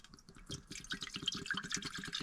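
Fresh water runs and splashes into a kettle inside a camper van, a steady trickling stream with quiet clinks close by.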